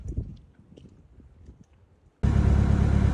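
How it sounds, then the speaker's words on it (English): A small old tractor engine bursts into a loud, steady running roar after a couple of seconds of quiet rustling on a farm sanctuary. "Time to empty the muck trailer with my little old tractor."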